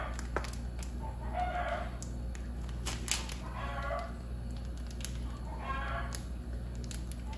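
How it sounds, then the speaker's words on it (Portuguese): A rooster crows several times at a distance, in drawn-out calls repeated every couple of seconds over a steady low hum and room noise while a hen is also nearby. "olha o seu galo aí cantando com toda a força"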